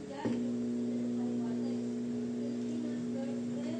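A microwave oven's magnetron gives a steady, low electrical hum that starts abruptly after a brief click and drones on evenly at moderate volume, with no voices over it.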